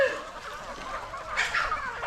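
Free-range native country chickens clucking close by, with a few short overlapping calls and bursts rising and falling over roughly two seconds in an open farmyard.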